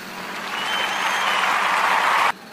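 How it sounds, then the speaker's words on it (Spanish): An audience breaks into applause that swells quickly, holds as steady dense clapping for about two seconds, then cuts off abruptly. "no aplaudan tanto, muchas gracias"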